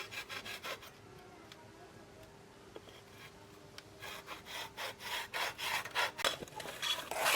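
Floor tiles being cut by hand without a machine, a repeated scraping, rasping stroke that starts slow and sparse, then quickens into a steady back-and-forth scoring rhythm, loud and close.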